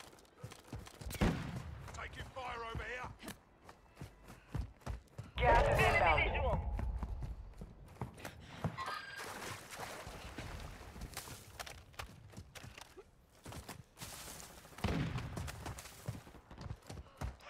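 Rapid bursts of gunfire in a battle-royale shooter game crackle in several volleys, one loud close flurry standing out, while players talk over much of the action.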